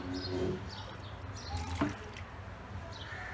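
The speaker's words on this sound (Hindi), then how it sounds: "और इसमें 1 कप पानी डाल देंगे।" Water splashes and trickles briefly as one cup is poured into washed mung lentils in a container, with soft drips and faint bird calls around it.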